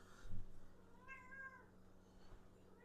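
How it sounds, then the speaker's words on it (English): A house cat meows once, clear but soft, in a quiet indoor kitchen with faint background hum and no talking. "That's my cat."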